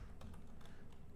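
Keys tap on a computer keyboard in a brief, faint burst of a few soft clicks against a low background hum.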